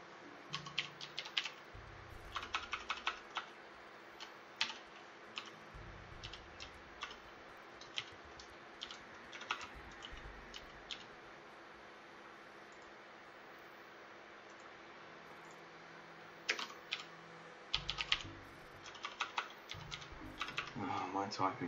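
Someone types on a computer keyboard during a late-night game development session, with bursts of quick, close key clicks separated by quiet gaps, while occasional speech is heard faintly.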